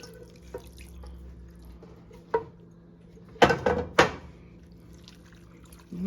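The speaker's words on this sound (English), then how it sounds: "And you add the chicken broth." Chicken broth is poured into a pot of noodles in a home kitchen, with faint drips followed by a couple of short, splashy pours close by. Light clinks of cookware are heard in between.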